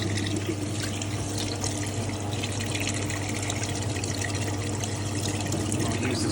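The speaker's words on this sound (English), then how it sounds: "the wash tub drains very quickly" A Hitachi PS330P twin tub washing machine's wash tub drains through a powerful pump, giving a steady, loud rush of water with a constant low motor hum throughout.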